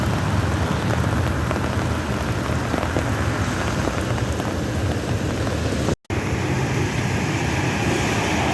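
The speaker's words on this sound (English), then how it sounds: "it is raining steadily" Steady rain from a tropical storm pours without pause in a dense, even hiss of drops on surfaces, broken only by one brief dropout.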